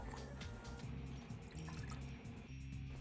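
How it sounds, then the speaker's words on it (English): Soy sauce pours into a small pot among honey-garlic spare rib ingredients, a faint liquid trickle and fill sound heard quietly beneath a rhythmic music bed. "In goes soy"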